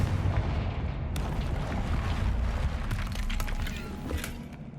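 Confringo blasting curse in Hogwarts Legacy, a dense, rumbling explosion heard close and loud, with crackling bursts and debris-like pops scattered through a sustained roar.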